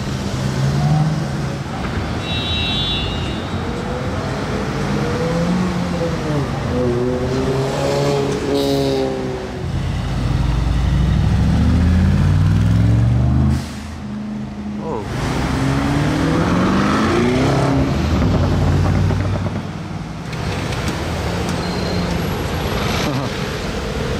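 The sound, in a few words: Porsche GT3 RS sports car driving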